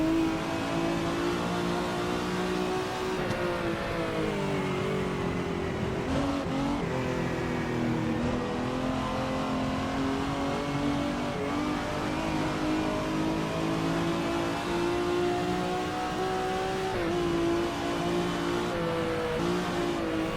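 A Ferrari 365 P2 racing prototype's engine revs steadily in a racing video game, a loud continuous mid-pitched drone with harmonic layers that dip and climb through gear changes, with no talk over it.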